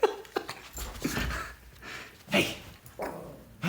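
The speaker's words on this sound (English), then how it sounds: "Why are you barking?" A Chihuahua gives short yips, whimpers and panting at close range, uneven bursts spaced across the moment, with a person briefly speaking to it.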